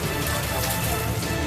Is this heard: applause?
no